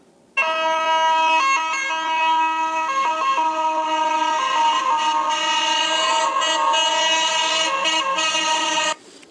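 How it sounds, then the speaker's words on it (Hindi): A fire brigade vehicle siren wails loud and close for about nine seconds, a steady tonal blare with strong harmonics and slight wavering pitch, alone without voices. "तो ऐसी आवाज आएगी, इसको बोलते हैं सिरेने"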